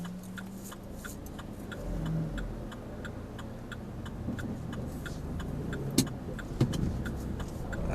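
A car's turn indicator ticks in a steady, even rhythm inside the cabin during a driving lesson, over a low engine hum and road rumble, with a couple of brief louder knocks near the end.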